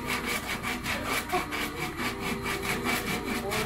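A hand saw cuts through wood in steady back-and-forth strokes, rasping and close, with no talking.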